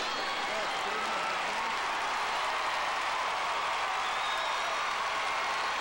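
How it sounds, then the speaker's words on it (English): Arena crowd applauding at the 1991 World Gymnastics Championships, a steady dense wash of clapping from a large audience, loud and sustained without pause throughout. "listen to the crowd. They are so appreciative of fine gymnastics"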